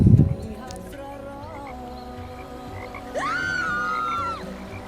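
Frogs croak in a close chorus, with low rasping calls and one long, drawn-out croak standing out near the end.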